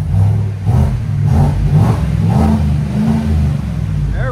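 Close and loud, a 2024 Chevy Tahoe 5.3L V8 with a cold air intake and a Black Widow exhaust blips its throttle in several quick revs, each one a deep burbling rumble that rises and falls, with no talk over it.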